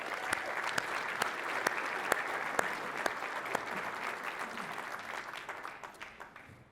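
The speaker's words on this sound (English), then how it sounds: "So let's give them all a round of applause." A conference audience at a quantum technology congress opening plenary applauds, steady dense clapping with a few sharp close claps standing out, tapering off toward the end.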